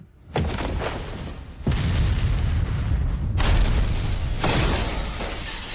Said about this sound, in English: Concentrate fire on a single point.